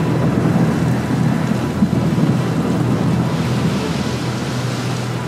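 A thunderstorm at sea during a Prophet Jonah film, with a dense roar of heavy rain and wind and low rumbling thunder rolling continuously, loud and enveloping throughout with no voices.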